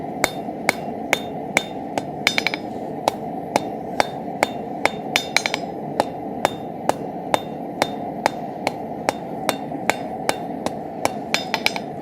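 A hammer drives a chisel into wood to cut a tenon, giving a long run of sharp, evenly spaced blows at roughly two or three per second, loud and close, with a few quick double strikes and no talking.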